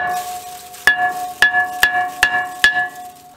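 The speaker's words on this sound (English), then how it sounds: "we're gonna hit it with a hammer" Five sharp metallic hammer strikes on a brake rotor ring out at an even pace, each clang leaving a brief bright ringing tone.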